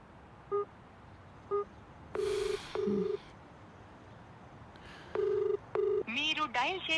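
A telephone dials a number that turns out to be busy: two short beeps, then long repeated tones, followed by a recorded voice announcement.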